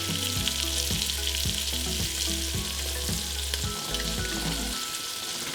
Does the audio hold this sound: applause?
no